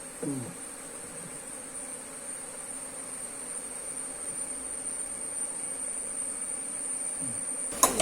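Honey bees around an opened hive during beekeeping make a faint, steady buzzing drone that continues alone without pause, with a thin high whine running over it.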